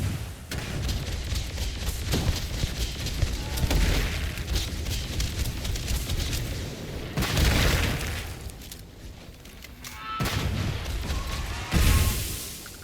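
Grenade blasts in Starfield, with several heavy booming explosions spaced across a loud, busy firefight mix.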